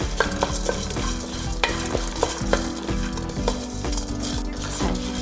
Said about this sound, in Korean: 견과류를 이렇게 살짝 볶아줍니다